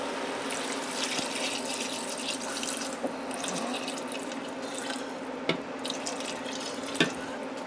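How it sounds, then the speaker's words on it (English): Water runs steadily from a tap into a pot, a continuous splashing hiss with a few small clinks, no speech. "I'm going to add just enough water to cover them."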